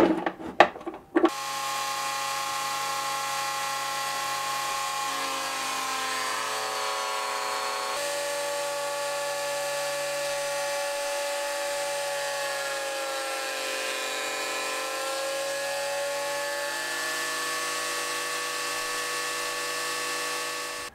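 A planer thicknesser planing wooden boards starts after a brief clatter, then holds a loud, steady, high motor whine that wavers slightly in pitch as boards feed through.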